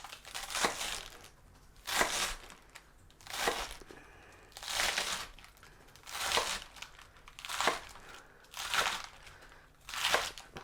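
Crisp lettuce, chilled in water, crunches under a knife as it is finely cut for a low-carb Big Mac salad, eight evenly spaced bursts of crunching close by, each about a second apart.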